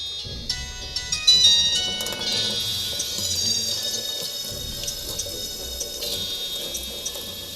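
A faucet hisses as water runs steadily into a sink, with a few metallic clinks at the start and a bright electronic tone ringing over it.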